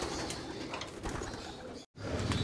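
Racing pigeons coo steadily in a loft aviary, a dense, close, overlapping chorus of soft throaty calls with a brief gap near the end before the cooing resumes.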